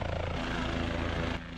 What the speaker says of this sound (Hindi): अगर आप देखें, हेलीकॉप्टर आया